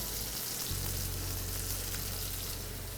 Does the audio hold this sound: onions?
yes